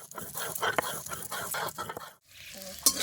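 Onion, garlic and green chili being ground into a paste on a stone in a village kitchen, a steady rhythmic scraping and rubbing close up, pausing briefly before the grinding resumes with a sharper scrape.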